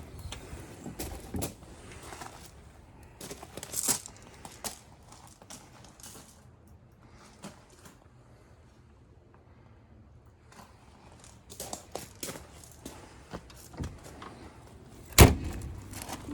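The curbside entry door of a 2023 Ford E450 Road Rescue Type III ambulance opened and shut, with scattered latch clicks and handling knocks, then a sharp, loud slam near the end.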